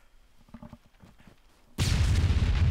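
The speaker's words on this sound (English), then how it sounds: "Okay, explosions everywhere." Faint clicks and thumps give way to a sudden, sustained roar of loud, rumbling explosions from Arma 3 Alpha game audio.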